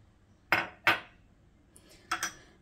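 A metal spoon clinks against a bowl while adding a spoonful of honey, two sharp taps followed by a pause and then a quick double clink, close and clear.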